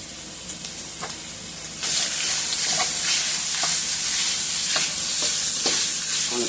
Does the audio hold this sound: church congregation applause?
no